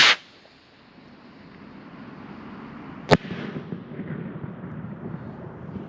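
Fireworks in a Fourth of July backyard show, with a loud burst at the very start, then a long crackling, rumbling tail, and a second sharp bang near the middle followed by more crackle.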